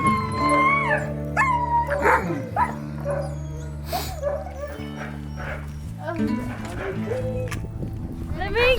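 Husky dogs bark, yip and howl at a husky farm in Norway, a chorus of overlapping calls running through the whole stretch with people talking over them.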